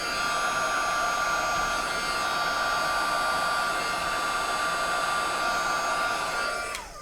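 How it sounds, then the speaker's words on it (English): Heat embossing tool blowing hot air over a card, a loud, steady close-up whirring hiss with a tonal fan whine that runs continuously and tapers off at the end. "It's always a good idea to let your heat tool heat up just a little bit."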